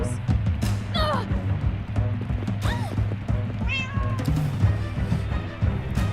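A cat meows several times in Minecraft: Story Mode, the rising and falling calls standing out over steady game music and background sound.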